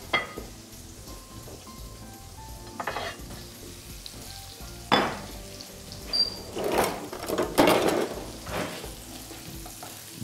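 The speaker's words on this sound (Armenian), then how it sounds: "Բանջարեղենը այնպես ենք հանում, որ համեմված բուսայուղը մնա տապակի մեջ։" Vegetables sizzle softly in a frying pan while a utensil scrapes and lifts them out into an oven tray, with several louder scraping bursts and clatters over a quiet background.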